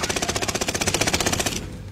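A Kilo assault rifle fires in a shooting video game, sending out a rapid, even burst of loud automatic shots that cuts off near the end with no talk over it.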